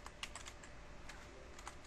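Rapid, faint keystrokes on a computer keyboard as router configuration commands are entered, a quick irregular run of light clicks close by with no voices.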